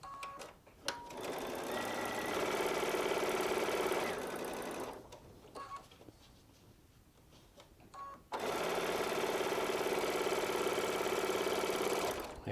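Baby Lock Solaris sewing machine piecing fabric with a quarter-inch foot, running in two loud, steady bursts of rapid stitching separated by a quieter pause with light handling noises.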